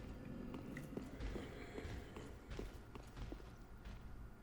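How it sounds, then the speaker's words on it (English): Faint, irregular footsteps in the video game Dark Souls 3 scuff and thud softly over a dark, rumbling ambient background, with no clear steady rhythm. "And footsteps."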